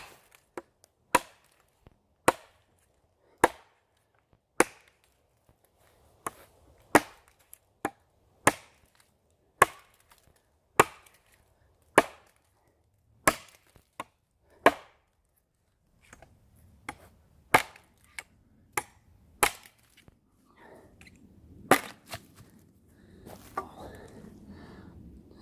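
A TOPS machete chopping wood, a steady series of sharp, crisp thwacks spaced about a second apart, loud and close, turning more irregular near the end with some rustling in between.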